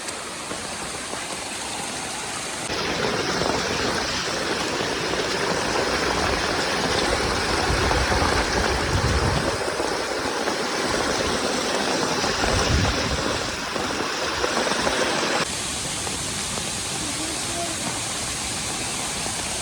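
Heavy monsoon rain and runoff streaming down a trekking trail on the way to Harishchandragad, a steady loud broadband rushing wash that swells and stays dense through most of the stretch.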